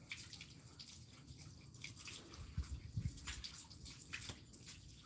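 Water pours and splashes steadily while a pet dog is bathed, a continuous close rushing wash with some low knocks and drips, and no voices.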